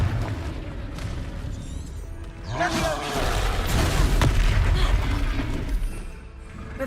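A fiery spell explosion bursts in a wizard video game: a deep, rumbling boom swells midway and rolls on for a few seconds before fading.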